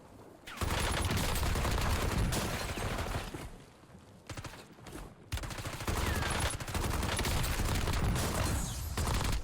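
Warzone gunfire on Rebirth Island: dense, loud bursts of automatic fire crackle almost nonstop, easing into a brief, quieter lull midway before heavy shooting resumes.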